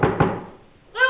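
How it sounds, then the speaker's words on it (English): In a children's story, a pig bangs on a door: two quick, heavy knocks close together, then a brief silence before a voice begins speaking. "This little pig bangs on the door."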